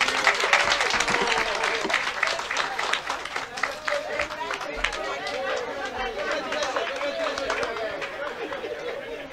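An audience at a UFDG general assembly applauds after a speech, with loud, dense clapping up close and chatter mixed throughout, the applause thinning slightly toward the end.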